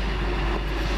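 A Class 313 electric passenger train bound for Stevenage passes through Alexandra Palace station, producing a steady, close broadband rumble for a brief moment.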